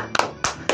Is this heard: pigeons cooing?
no